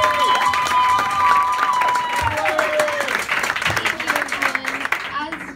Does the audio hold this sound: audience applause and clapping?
yes